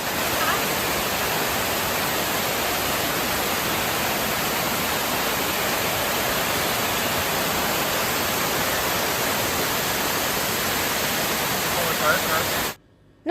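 A limestone waterfall, Pha Taek in Khao Laem National Park, Kanchanaburi, roars steadily and loudly, a continuous wash of rushing water that cuts off abruptly near the end.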